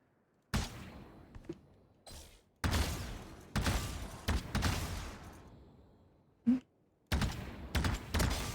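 Video game gunfire cracks out in irregular loud bursts and single shots, separated by short quiet gaps, close and punchy with no talking over it.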